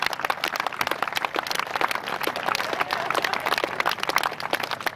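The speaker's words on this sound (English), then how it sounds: "Another nice round of applause for Butch Harmon and Tiger Woods." Sustained applause from an audience at a golf exhibition event fills the space, dense clapping continuing evenly for several seconds with no speech over it.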